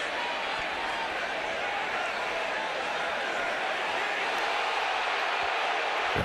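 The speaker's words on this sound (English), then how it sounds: "You hear the reaction from the crowd." A college football stadium crowd at a Miami versus Louisville game roars steadily throughout, a broad, dense wash of cheering with a commentator talking over it.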